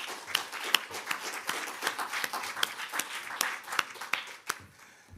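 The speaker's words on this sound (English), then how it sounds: "Please join me in applauding Dr. Westcott for such a phenomenal presentat" Audience applause at the close of a presentation at an annual general meeting, a moderate crowd clapping steadily with sharper individual claps standing out, fading slightly toward the end.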